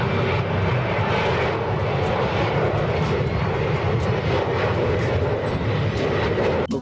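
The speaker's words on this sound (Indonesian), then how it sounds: "Nah, lihat teman, ada pesawat terbang." Airplane sound effect for a toy airplane: a loud, steady engine roar with a broad whooshing hiss, constant throughout with no talk.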